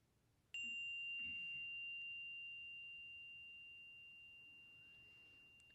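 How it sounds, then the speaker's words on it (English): A single meditation chime is struck once, a clear bright ring that starts sharply and fades slowly over several seconds in an otherwise quiet room. "I'm going to invite the chime to sing."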